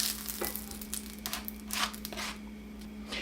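A utensil scrapes and stirs food around the bottom of a sizzling pan for a grilled cheese sandwich, with repeated close scraping strokes over a steady frying hiss.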